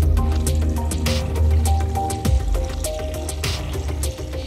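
Water is poured into an Instant Pot for borscht, a close, continuous splashing and gurgling with small drips and clinks throughout, and no talking.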